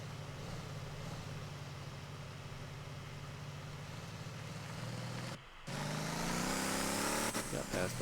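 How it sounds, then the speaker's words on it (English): Tow truck driving past in the video game Motor Town: a steady engine drone that cuts out briefly, then returns as a louder revving pass with shifting pitch. "Got passed by a tow truck."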